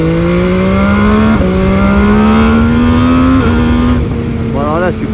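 An MV Agusta Brutale 800 motorcycle ridden in normal mode, a loud close engine note rising steadily through the gears with brief dips at shifts, heard alongside wind rush and a rider talking over it.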